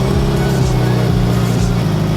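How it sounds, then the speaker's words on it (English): A car engine idles and revs near the listener, a loud steady rumble with rising and falling pitch sweeps, from a tuned EG hatchback fitted with a fake blow-off valve. "You just start this car, then you start this car"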